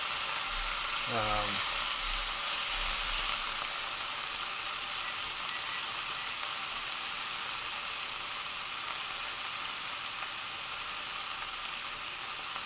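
Peameal bacon sizzles and crackles steadily in a hot pan, a continuous bright hiss throughout with a brief low thump near the start.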